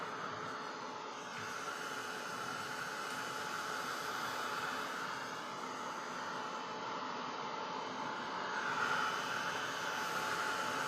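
A hair dryer blows steadily over a fresh watercolor painting, a continuous close airy whoosh with a broad hiss that holds nearly unchanged for about eleven seconds, rising slightly toward the end.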